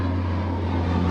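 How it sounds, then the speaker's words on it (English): A large airplane flies overhead with a steady, loud droning roar and a low engine hum that fills the whole moment without a break. "Excuse the giant plane that's gonna come by."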